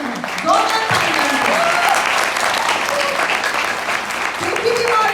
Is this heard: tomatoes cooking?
no